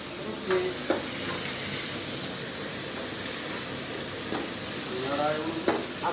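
Chicken gravy masala fries in a pan with a steady loud sizzle and hiss, while a spoon stirs through it with occasional scraping knocks on the metal, close and continuous; no speech.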